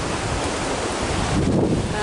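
The powerful Middle Fork Feather River rushes in a steady, dense roar of churning water, close and loud throughout with no break.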